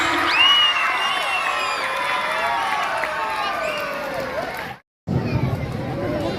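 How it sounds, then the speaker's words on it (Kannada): An audience welcoming a teacher with a loud, sustained wave of clapping, cheering and whoops, excited voices layered throughout, cutting briefly to silence near the end before the crowd noise resumes. "ಬನ್ನಿ, ಜೋರಾದ ಚಪ್ಪಾಳೆ ಮೂಲಕ ಅವರನ್ನು ಸ್ವಾಗತಿಸೋಣ."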